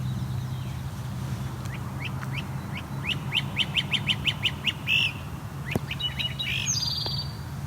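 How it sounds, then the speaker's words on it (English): Bird calls ring out outdoors, a great crested flycatcher calling in a run of rapid, evenly spaced chirps over a steady low rumble, with a couple of sharper notes near the end. "That was the great crested flycatcher."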